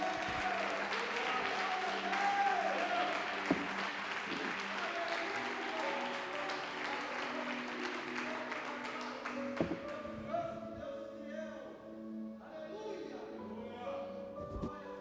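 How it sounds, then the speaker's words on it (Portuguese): Church congregation applauding during an evangelical sermon, a moderate wash of clapping under a sustained musical tone that fades toward the end, with voices mixed in. "Você pode aplaudir mais forte e glorificar Ele?"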